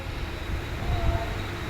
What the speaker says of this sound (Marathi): तर बघा आपली ट्रेन पण सुटली आता